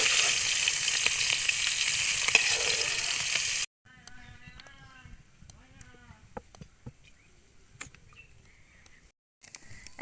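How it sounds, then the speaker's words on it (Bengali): Taki fish frying in a pan, a loud dense sizzle for the first few seconds that cuts off abruptly, followed by quieter scattered clinks and faint crackles, with a brief pause before sizzling resumes near the end. "এভাবে এক এক করে সব মাছগুলো ভেজে নেব।"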